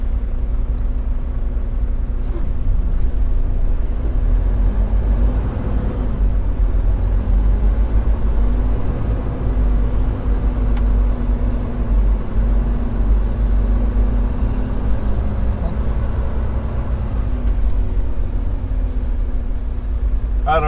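Road traffic rumbles past a parked semi truck in Chicago, a steady low drone of engines with a passing vehicle swelling midway, continuous and fairly loud, with no speech.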